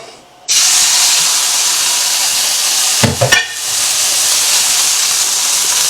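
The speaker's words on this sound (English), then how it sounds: "Now that our skillet's good and hot, we can put the steak in." Steak hits a hot skillet with a sudden loud, sustained hissing sear that stays strong and steady, broken once by a brief clatter, close up with no talk.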